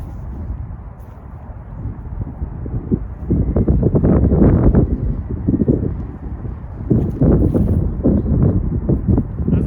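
Wind gusts on a wooded disc golf course rumble and buffet a nearby microphone in steady, surging waves, strongest in the middle and near the end.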